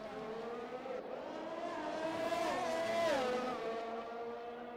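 Formula One cars in a Monaco racing video game, a McLaren on the tail of a Ferrari, their high-pitched engines whining and shifting pitch as they rev and pass close by.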